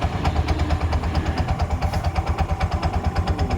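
A Bajaj auto rickshaw's 205cc engine idles with a steady, pulsing putter close by, a light metallic clutch bell rattle riding along the beat, with no voices.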